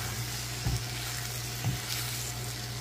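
Tofu and egg cooking in a frying pan: a dense, steady sizzle with two soft stirring scrapes a second apart, close and even, no voices.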